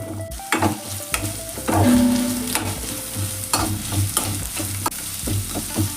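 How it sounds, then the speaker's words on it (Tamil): Two large onions frying in oil in a kadai, a steady nearby sizzle broken by frequent stirring scrapes and clacks of a spoon against the metal, with no speech. "அதே கடாயில் எண்ணெய் ஊற்றிட்டு கட் பண்ணி வச்சுருந்த 2 பெரிய வெங்காயத்தை இதில் ஆட் பண்ணிக்கலாம்"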